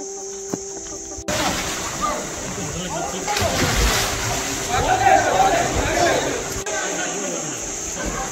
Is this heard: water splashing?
yes